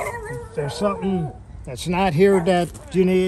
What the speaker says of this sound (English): Sorry about the dog barking there.